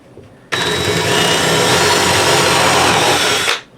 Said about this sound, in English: that way your drill bit will kind of just sit there